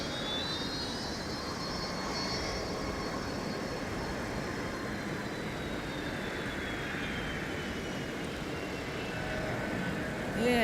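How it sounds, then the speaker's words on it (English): A Delta airliner on short final to runway 30 left at MSP airport in winter, its jet engines producing a steady roar with a slowly shifting whine, heard from a distance with an airport background. "And Delta 9 is now next for arrival on runway 30 left. Coming in on short final"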